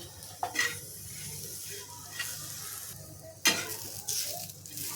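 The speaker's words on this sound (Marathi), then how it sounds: "हे सगळं मिक्स करायचं आहे आणि सर्व एकत्र भाजून घ्यायचं आहे याच्यामध्ये थोडं तेल टाकून घेते आणि भाजून घेते" Onion and grated coconut roast in a little oil in a pan for a fish curry, giving a soft continuous sizzle broken by several scraping stirs of a spoon against the pan, close and fairly quiet.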